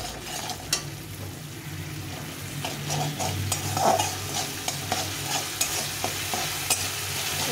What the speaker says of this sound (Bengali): হলুদ গুঁড়ো দিয়ে আমি এটাকে ভালো করে কষিয়ে নেব